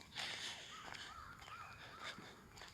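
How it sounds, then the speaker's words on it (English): Faint birdsong outdoors, a few short chirping calls repeating at a distance over a soft background hiss. "I can hear the birds singing"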